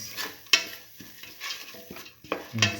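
Spoon stirring salt into a split mung bean tamarind stew in a pot, soft scraping strokes and light clinks against the pot in an uneven rhythm, close and quiet.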